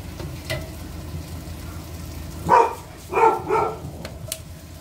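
Several dogs barking in a home during cooking, a few short sharp barks in bursts, moderately loud against faint kitchen sizzling.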